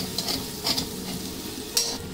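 Sugar being stirred into hot ghee in a pan on low heat, a soft continuous sizzle with a few quick scraping strokes of the spoon standing out.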